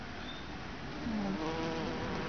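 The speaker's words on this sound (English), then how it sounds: "I love bees. I'm really glad they're in my garden." Bees buzz among spring flowers such as bleeding hearts in a sunny home garden, a steady insect drone with one nearer pass swelling briefly before fading, no voices.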